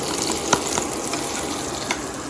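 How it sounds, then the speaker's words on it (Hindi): Butter and a little oil sizzle in a pan for shahi tukray, a steady close frying hiss with a couple of faint clicks and taps. "मैं डाला बटर यहाँ पे और थोड़ा सा ऑयल डाल दूँगी ताकि घी जले"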